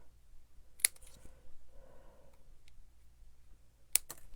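Scissors cut through card paper during a papercraft session: two crisp, quiet snips about three seconds apart, with only soft rustling between them and no talking.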